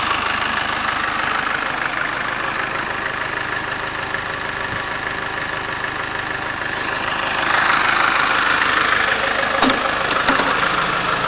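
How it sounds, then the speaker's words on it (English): A 1985 Land Rover 2.25-litre engine idles steadily and smoothly nearby, a low continuous rumble that swells slightly louder toward the end, with no talking. "You can hear the engine. Nice, smooth running engine."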